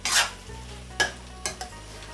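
A spoon stirs a pumpkin mixture with wheat flour in a pan. A few soft, separate scraping strokes and taps come through close and quiet, with a faint sizzle underneath.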